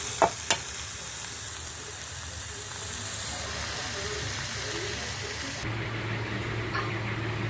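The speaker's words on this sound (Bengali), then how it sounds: "বন্ধুরা এরকম করে কিছুক্ষণ আমি রান্না করে নেব শাকটা" Red amaranth greens (lal shak) fry in a pan with a steady, close hiss and sizzle, and two sharp clinks of stirring come near the start.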